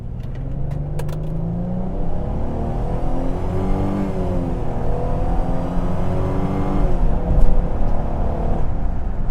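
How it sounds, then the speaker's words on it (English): A 2005 Mustang with a Transgo 5R55W shift kit pulls away from a dead stop, its engine rising and falling through gear changes in a steady, loud cabin drone with no talking. "we're gonna get into it so you can hear from a dead stop"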